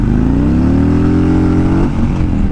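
A Harley-Davidson Road King motorcycle engine revs up close and loud, its pitch rising smoothly and then dropping back as the throttle eases off.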